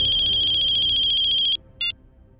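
An electronic phone ringtone trills loud and close in a steady, pulsing pattern for about a second and a half, stops abruptly, then gives one short final burst before quiet room tone.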